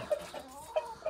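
Rooster in a farmyard giving a few short, soft clucks spaced out over about a second, close by and quiet with no talking.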